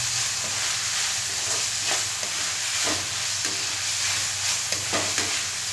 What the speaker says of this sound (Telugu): ఎంత బాగా వేగిందో. అలా వేగింది కదా.